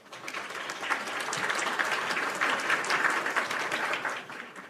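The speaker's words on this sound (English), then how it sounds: "Yeah. Applause." A small audience clapping together for several seconds, swelling then tapering off, with light background voices.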